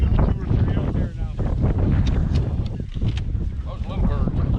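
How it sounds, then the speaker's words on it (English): Strong wind buffets the microphone throughout a goose hunt in an open field, a steady loud rumbling roar with voices partly heard beneath it. "Lots of wind today. Too much wind, really."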